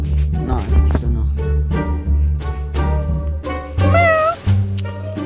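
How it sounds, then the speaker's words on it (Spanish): A cat meows loudly and close several times, in short uneven calls with one longer wavering cry near the end, amid household noise. "Es que también siendo un gato en la vida real, se llama Beba."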